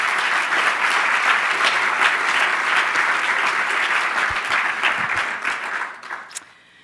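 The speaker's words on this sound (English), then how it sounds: "How about a round of applause for the Tucker team?" Audience applause at a spring distinguished lecture on women and aging, a dense, steady roar of many hands clapping that holds for several seconds and then thins out and fades away.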